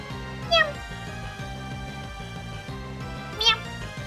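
A human voice imitates a cat's meow twice, each a short rising call over a steady background of music.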